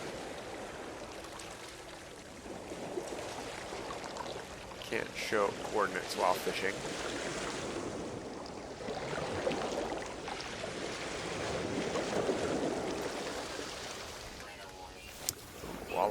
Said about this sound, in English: The water got loud.